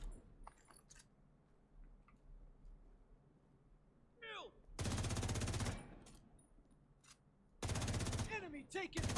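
Rapid automatic fire from the Lexington rifle in the video game The Division 2, two long dense bursts of close, loud shots with game sound effects and quieter moments between.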